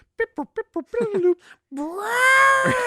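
A voice imitates a cat: several short chirpy meows, then a long, drawn-out yowling meow, close and fairly loud.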